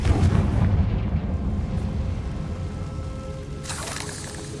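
Confringo fire spell blasting in Hogwarts Legacy, a loud rumbling explosion with a dense roar that slowly fades, then a brighter crackling burst near the end.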